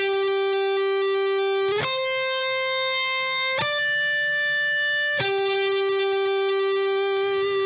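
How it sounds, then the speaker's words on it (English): Electric guitar through a New Neighbor Neuron distortion pedal with the gain maxed, giving a synth-like lo-fi tone: four sustained single notes, each sharply attacked and held with rich, bright harmonics, played alone. "for this distortion here, I was using the New Neighbor Neuron, and it sounds like this"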